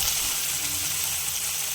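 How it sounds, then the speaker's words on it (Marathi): Ghee sizzling hard over a full gas flame, a steady, close hiss of frying with no voices over the short stretch. "यामध्ये मी आता तूप घालून घेते आणि तेही फुल गॅसवर परतून घेऊया"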